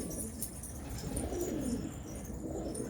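Elvan pigeons coo softly in low, rolling calls, close by, with faint chirps and light rustling from a flock in the background.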